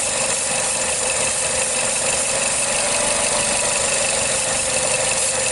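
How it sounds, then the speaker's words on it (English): A 2006 Nissan Sylphy engine with a lean-running fault idles steadily, a constant close hum with a faint rattle and no change throughout. "And here I'm listening for the difference in the engine."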